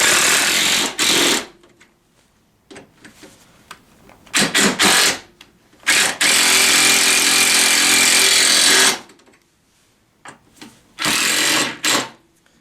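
A power impact tool tightens the bolts on the rear rack of a Tao Tao CY50A scooter, loud close bursts of rapid hammering separated by quiet pauses, one long sustained run in the middle.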